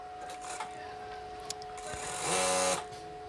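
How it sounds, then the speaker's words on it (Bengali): An electric sewing machine stitches along folded fabric on a pillow cover in a short, close whirring burst near the end, after a few quiet handling taps and a faint steady hum. "দেখুন এখানে একটা মুড়ানি দিয়ে আমরা এখানে বরাবর সেলাই দিয়ে নিব।"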